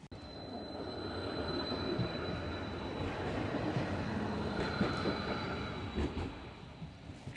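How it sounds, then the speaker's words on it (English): A tram rumbles past close by at the Addiscombe tram stop with a steady roar, faint wheel squeal and clattering along the track, no voices. "Tram there, this is the Addiscombe tram stop."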